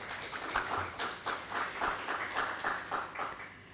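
A conference audience at a plenary session on regenerative ecosystems claps for a speaker being welcomed, a fairly faint, loose round of applause that swells and ebbs in uneven pulses.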